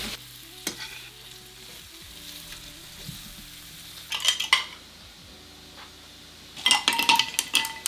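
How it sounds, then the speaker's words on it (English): Onions sizzle in a pan, a faint steady hiss under louder bursts of stirring and clinking utensils against the pan. "All right, onions going in."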